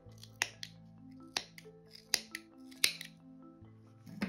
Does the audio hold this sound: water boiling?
no